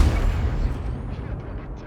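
A tank cannon firing in a tank video game, a heavy low boom that rolls into a sustained rumbling decay, loud and close with no voices.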